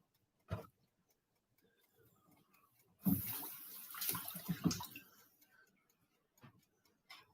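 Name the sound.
rinsing sliced green peppers under water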